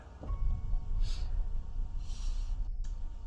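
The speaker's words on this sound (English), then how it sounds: "that's the breathing Michael does in the first movie" Michael Myers's slow, heavy breathing from the Halloween Ends trailer, rasping in and out under a low rumbling score, with a couple of brief airy swells.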